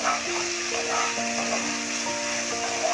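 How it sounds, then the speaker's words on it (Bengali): Spices and soy sauce frying in a pan over low flame while being stirred, a steady close sizzle with soft scraping strokes underneath. "ভালো করে মশলাগুলো মেশাবো"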